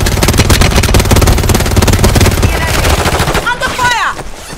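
Rapid automatic gunfire in Warzone 3 on Urzikstan, a loud continuous rattle of shots that breaks off near the end as a short radio voice cuts in.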